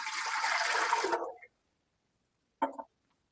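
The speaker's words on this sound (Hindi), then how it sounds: "एक जग में पानी डालूंगी" Water pours into a jug in a steady, splashing stream for about a second and a half, then stops; a brief final splash follows after a pause.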